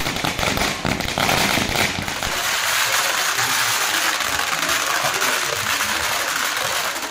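Firecrackers burst during fan celebrations in Tamil Nadu, a dense crackling barrage up close that gives way to a sustained noisy rumble of continued popping and crowd din.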